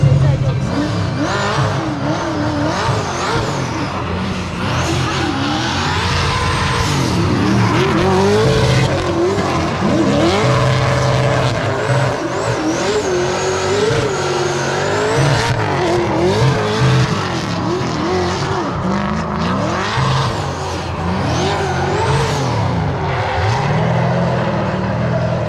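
A D1 Grand Prix drift car slides through a run in Taiwan, its engine revving and wavering hard while tires squeal and skid continuously, loud and close, with occasional voices underneath.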